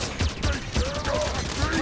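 Rapid gunfire from a weapon fired while hovering in mid-air in Halo 5 Guardians, a string of quick shots in steady rhythm, moderately loud amid game effects and a talking voice.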